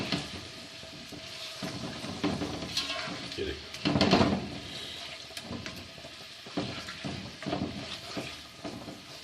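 Chicken frying over a high flame, with a steady sizzle broken by clattering spoon-and-pan stirring and a brief louder burst midway, while a person talks over it.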